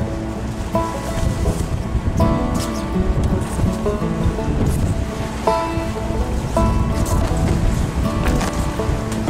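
Engine of the boat Wanda chugging steadily on a Scottish voyage, a continuous low throbbing rumble mixed with water wash and splashing against the hull, close and fairly loud, with no voices.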